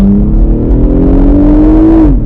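A BMW 840i coupe engine revs up in one long rising pull, loud and close, then drops off sharply at the end, with no voices.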